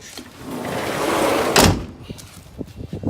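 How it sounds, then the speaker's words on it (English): A single solid food truck door thuds shut, a loud close followed by a short rattle, then quieter clicks and knocks. "I'm gonna go ahead and close the door."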